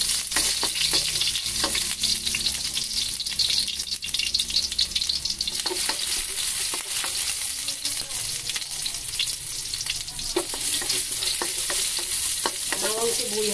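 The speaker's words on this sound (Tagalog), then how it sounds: "So, ayan guys, gigisa na natin siya." Onion with chili sautéing in oil in a pan for pancit with longganisa, a loud continuous frying sizzle with occasional stirring scrapes, no talk.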